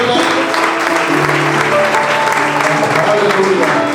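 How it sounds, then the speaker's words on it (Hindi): Loud, continuous applause from a church congregation at a leadership conference, filling the whole stretch alongside sustained music tones, with voices mixed in. "आइए खुदा के खादम करिए हम जोरदार तालियां बजाएं।"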